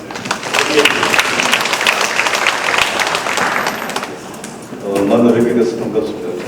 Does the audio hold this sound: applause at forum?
yes